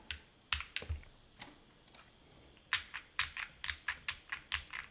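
Keys mashed rapidly on a Lemokey L1 wireless gaming keyboard, a fast irregular run of sharp close-up clacks in bursts with brief pauses, no voices.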